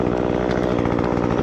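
Chainsaw with a faulty carburetor, the carb pulling away from the cylinder, roaring loud and close at steady high revs with a rough, uneven buzz, no voices.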